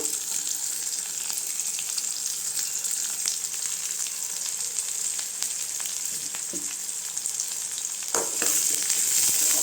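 Onion, curry leaves and dried red chilli sauté in a pan with a steady, bright sizzle, occasional stirring clatter and a louder burst of crackle near the end; no talking.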